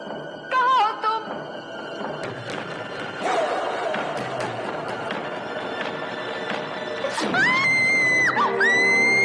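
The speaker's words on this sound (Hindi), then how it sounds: "कमाल, तुम भी कमाल का चीखती हो" Among several voices, a woman lets out shrill, rising screams in a horror-comedy scene, including a long piercing cry near the end, set against clattering bumps and a busy, echoing background.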